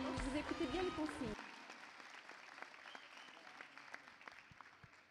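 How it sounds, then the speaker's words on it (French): An audience breaks into applause for young female athletes at a neighbourhood sports ceremony, the clapping thinning into scattered claps as a voice fades underneath, following a brief burst of loud music at the start. "Allez, on les applaudit bien fort"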